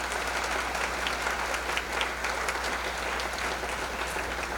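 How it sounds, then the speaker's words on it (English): A conference audience applauds an event's organizers on Saipan, steady clapping from many hands holding an even level throughout, moderately distant with a faint low hum beneath. "I believe that we owe them a round of applause."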